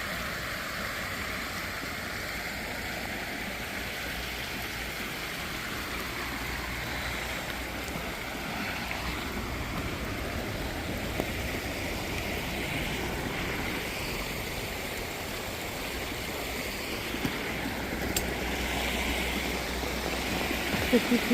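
Floodwater rushes through a swollen creek after tornado storms in Arkansas, a loud, continuous roar of flowing water that runs steadily throughout, with faint wind noise.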